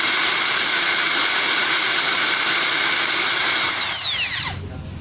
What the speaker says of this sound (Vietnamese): chế độ khoan bắt vít và chế độ khoan tường nó công suất tiêu điện tương đối bằng nhau